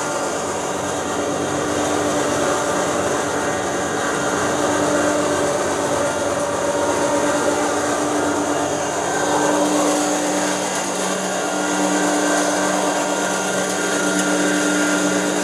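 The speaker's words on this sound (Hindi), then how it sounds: "भैया मक्की की पिसाई बहुत बढ़िया हो रही है, आपको लाइव डेमो दे रहा हूँ मैं ऑटो सेंक्शन ग्राइंडर का।" An auto suction grinder mills maize with a loud, continuous whirring roar and a steady mechanical hum that holds unbroken from start to finish, with no talk.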